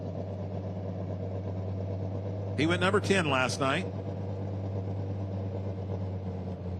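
A Cat Challenger Pro Stock pulling tractor idles at a grandstand track during a night pulling event, a steady low engine drone running throughout while an announcer speaks over a public address system partway through.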